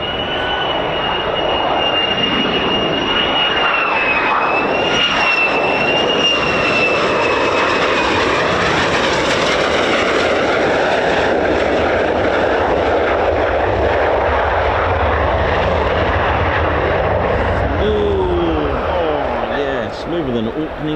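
An F-15 or F-35 fighter jet of the 48th Fighter Wing at RAF Lakenheath roars continuously and loudly, the engine tone slowly shifting and sweeping as it passes.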